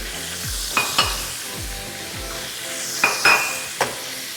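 Red and yellow bell peppers dropped into a pan of frying chicken, a steady sizzle with several sharp utensil clinks and stirring scrapes scattered throughout.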